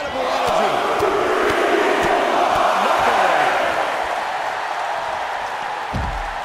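Dense, steady roar of a wrestling crowd cheering at an NXT women's match, loud and sustained throughout with faint voices and shouts within the mass of noise.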